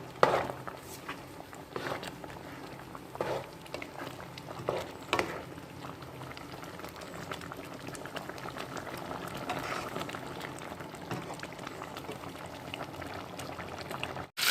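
A stingray curry boils in a pan, bubbling steadily and quietly at close range with small irregular pops and a few brief clinks, and no one speaks.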